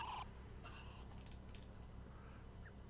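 A bird squawks in the PS1 game Xenogears while the player tries to steal its egg in Lahan Village. There is one sharp, loud cry at the start, then fainter chirps and flutters over a steady low hum.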